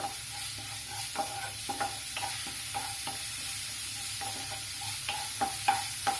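Ingredients sauté in hot oil for corn pulao, with a steady sizzle and frequent scraping stirs from a spatula, close and fairly loud, no talking.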